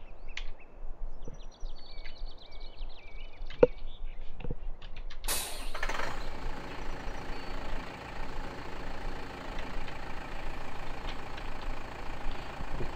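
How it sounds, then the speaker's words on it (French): A Fiat tractor engine idles in the video game Farming Simulator 2013. A low, steady mechanical drone runs throughout and grows fuller and broader partway through. "C'est un moteur Fiat hein"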